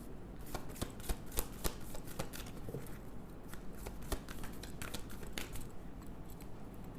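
Tarot cards are shuffled and drawn in a quiet room: soft, rapid riffling and flicking with crisp little snaps, fairly faint and close.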